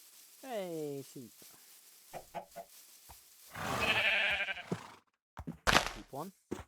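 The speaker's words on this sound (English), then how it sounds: "Hey, sheep." Sheep bleat in a video game, a few wavering calls early on and again near the end, mixed with game effects and a burst of hissing noise, with a person talking in between.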